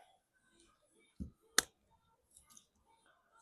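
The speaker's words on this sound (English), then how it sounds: "you will hear clicking noise and stuff like that, which is perfectly normal" Parts of a T-Mobile REVVL 6 phone screen click into place during a repair: two sharp, close snaps a moment apart in near silence, followed by a few faint ticks.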